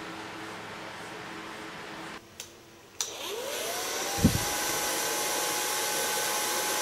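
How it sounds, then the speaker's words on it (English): A hair dryer blows someone's hair in an art studio, starting with a click and then settling into a loud, steady, close rushing whir that keeps going without a break. "Now I can blow dry your hair."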